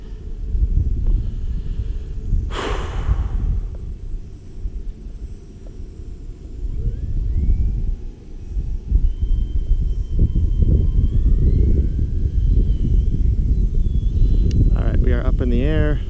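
A 1.2 m E-flite F4U Corsair electric RC model plane flies during its maiden flight, giving a steady motor whine that drifts near and far, with a person talking over it.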